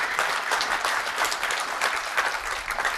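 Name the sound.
audience applause at tech conference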